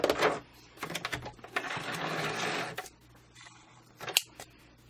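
A sewing machine stitches zigzag on a collage card with a metallic-trimmed heart, giving short rapid mechanical bursts, close and fairly quiet, separated by pauses.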